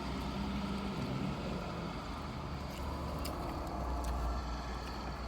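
A truck runs near a Buc-ee's travel center, a steady low engine rumble with background hum that continues throughout at moderate distance, with no speech.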